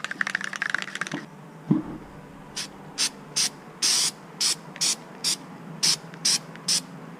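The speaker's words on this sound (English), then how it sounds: "I'm going to spray some of this rubberized rocker guard on." A spray can of rubberized rocker guard coating hisses in about a dozen short even bursts, close up, after a few seconds of rattling and handling.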